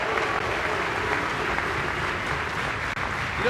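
Crowd cheering and applauding steadily after a strike in a professional doubles bowling match, a dense continuous roar filling the hall with no break for the full few seconds.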